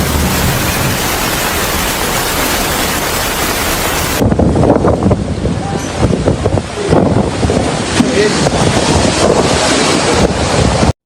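Huge storm waves and strong wind pound the Sicilian coast. A loud roaring rush of surf and wind buffets the microphone throughout, with crashing bursts toward the end and no voices.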